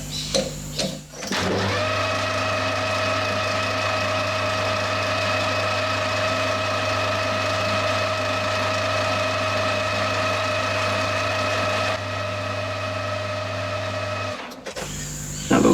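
A lathe turns a shoulder on a small clock part, a steady motor hum with a constant tonal whine that runs unbroken for about thirteen seconds before stopping, close and moderately loud, with no talk.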